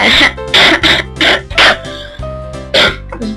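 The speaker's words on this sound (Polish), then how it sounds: "Ten ciągle kaszel." Several loud, close coughs in quick bursts, with pauses between, some sounding like harsh throat clearing, in the video game Sammy Suricate.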